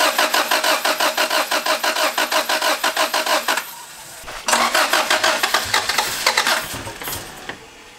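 Honda Civic hatchback engine cranking with rapid rhythmic starter pulses for several seconds, a brief pause, then another loud cranking attempt that sputters and fades without catching, close up.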